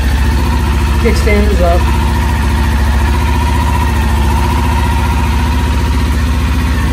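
A 2020 Kawasaki Ninja 400 ABS motorcycle engine idles steadily up close for the whole stretch, a continuous low rumble, with a person briefly speaking over it near the start.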